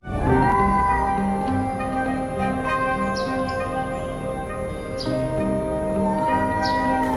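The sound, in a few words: cat meowing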